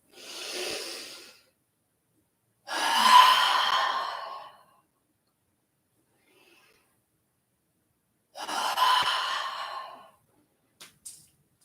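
Deep yoga breaths, a few long airy inhales and exhales separated by silent pauses, close and breathy, with no talking.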